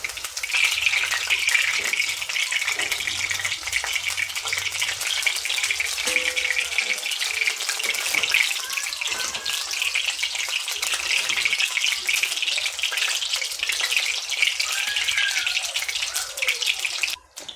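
Cauliflower pieces fry in a pan of hot oil, a loud continuous close sizzle with bubbling crackles that keeps on without a break and with no talk, before cutting off abruptly at the end.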